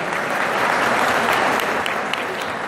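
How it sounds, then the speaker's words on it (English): A crowd at an Assyrian New Year festival in Fairfield claps steadily for Carmen Lazar, a dense, loud, even wash of applause lasting throughout. "Carmen Lazar, a round of applause for Carmen."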